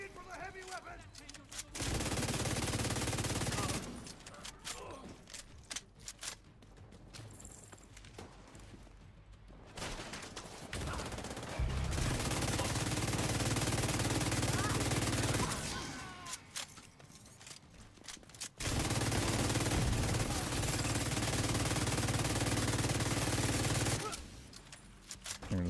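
Bursts of rapid automatic gunfire in a snowy video game level, dense and loud, come in several long volleys separated by quieter stretches of background noise.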